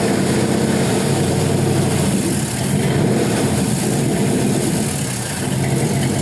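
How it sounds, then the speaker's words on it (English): A 6.0-liter LS V8 engine on a run stand, untuned, rumbles steadily close by with slight rises and dips in revs, a continuous loud mechanical drone with no talking. "Rev it up and see if I don't kill it."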